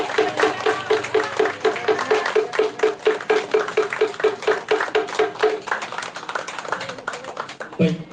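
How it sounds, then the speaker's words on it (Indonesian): Audience applause at a 50th anniversary neighborhood community gathering, steady rhythmic clapping from a crowd lasting several seconds, with voices faintly present. "Kita beri aplaus yang meriah"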